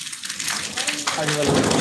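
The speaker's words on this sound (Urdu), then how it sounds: "بہت تیز بارش بھی ہے" Heavy rain pours down in a steady, loud broadband hiss that runs through the whole stretch, with a faint voice rising briefly near the end.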